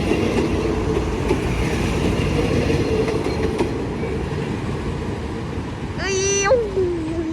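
A train at Bang Sue Junction railway station in Bangkok rumbles steadily nearby with faint rhythmic clacks, then a sharp, rising-and-falling horn or whistle sounds briefly near the end over the ongoing rumble.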